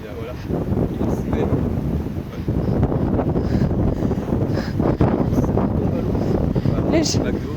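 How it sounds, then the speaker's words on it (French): Strong wind buffets the microphone in a steady, loud low roar with gusts, outdoors beside a water jet fountain. "il y a trop de vent"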